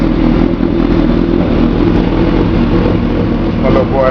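A Yamaha YZF motorcycle with a D&D exhaust runs loud and close, a dense engine drone holding steady with slight surges, while people talk over it.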